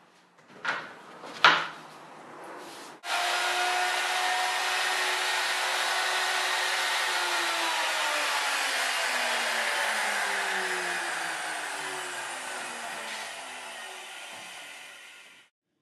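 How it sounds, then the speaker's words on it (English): A CNC router trims the base and mounting area for a sink on the back side of a countertop, a loud, sustained high whine following a couple of sharp knocks, its pitch sliding down gradually before stopping. "the routing fixtures are put on the back side of the countertop to trim the base and mounting"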